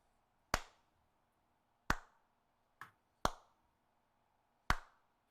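Five sharp, isolated hand claps at irregular intervals, each a crisp snap with a short decay, ringing out alone against a quiet background.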